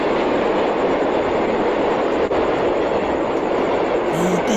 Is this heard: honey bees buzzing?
no